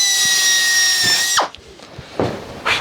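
A power drill whines steadily at high speed with a number 40 bit, loud and close, then cuts off abruptly, followed by a few brief scrapes and clicks of handling while building a Zenith 701 aircraft's access panels.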